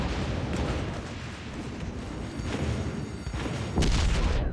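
Naval guns boom and shells explode as an enemy battleship is sunk in World of Warships Legends, heavy rumbling blasts rolling one into another, with a louder burst near the end.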